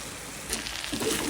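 Cauliflower, bean and potato bhaji fries in a pan, a soft steady sizzle with a brighter crackling burst partway through, close and fairly quiet with no talk.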